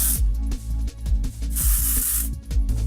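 Texturizing powder spray misted onto second-day hair in a salon, several close hissing bursts of varying length, the longest lasting nearly a second, over a steady low hum.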